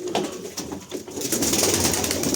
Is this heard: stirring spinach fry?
no